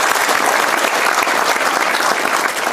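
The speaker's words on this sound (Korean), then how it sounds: "박수로 환영합니다" Steady applause from a forum audience at a Korean policy discussion on the Kim Jong Un regime and the future of the Korean Peninsula, dense, even clapping throughout at close range with no talk over it.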